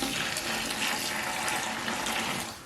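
A cup of water pours into dry mortar mix in one steady, close splashing stream that tapers off at the end.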